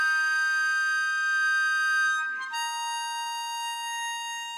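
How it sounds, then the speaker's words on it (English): A harmonica shifted down in pitch on playback, holding two long steady reedy notes with a breathy change between them, close and clear, no speech. "I recorded my harmonica at the incorrect pitched up step, and then I pitch shifted the harmonica down in the track."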